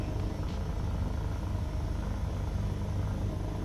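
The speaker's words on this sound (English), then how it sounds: "this is not a fixed-wing aircraft, this is a helicopter" A helicopter in a flight simulator game holds a steady, continuous rotor-and-engine drone, loud and close, with a deep low throb and no voices.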